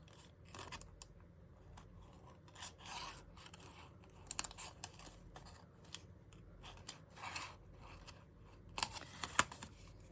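Scissors snipping through a piece of vellum paper at a craft table, a series of quiet, close, crisp cuts with faint rustling between them, no talking.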